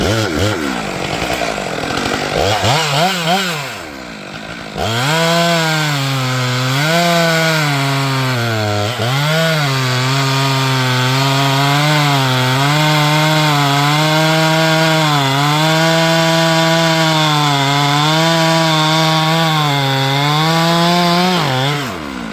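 A chainsaw runs steadily at high revs while felling a tree, its loud buzzing engine holding a strong, slightly wavering pitch as it bites into wood, after a brief rev-up.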